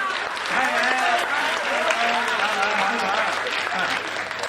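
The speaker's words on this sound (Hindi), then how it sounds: "तालियां बजनी चाहिए इस बात" Audience applause at a Hindi humorous poetry recital, steady clapping filling the room for several seconds while voices and cheers rise over it, with a low hum running underneath.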